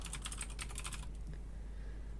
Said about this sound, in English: typing in our user info here, our password, and logging in as Randy